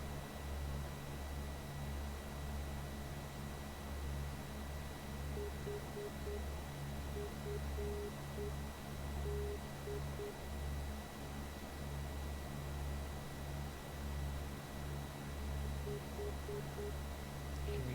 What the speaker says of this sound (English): if you put on the nav1 audio, is that they send a Morse code signal out